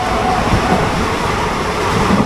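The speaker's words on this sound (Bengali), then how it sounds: "ট্রেনের ম্যাক্সিমাম যে স্পিড রয়েছে hundred and ten kilometre per hour সেই স্পিডেই কিন্তু ট্রেনটা এখন চলছে" The 12364 Haldibari Express runs at 110 km/h, a steady, loud rumble and roar of the coach on the rails heard from inside, continuous and unbroken.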